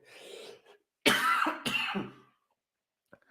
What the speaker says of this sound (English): I've had this kind of cough now for a few days